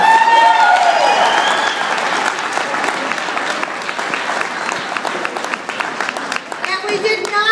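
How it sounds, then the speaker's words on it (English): A crowd at a campshow closing ceremony gives volunteers sustained applause, loud at the start and then thinning into scattered distinct claps, with cheers and voices mixed in. "please give them an extra round of applause"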